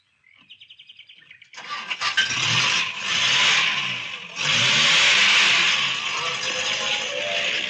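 A car engine cranks with a quick stuttering series of pulses, catches, then roars and revs loudly as it pulls away, the sound staying strong and near.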